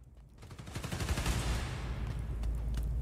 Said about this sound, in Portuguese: Estão atirando nos transformadores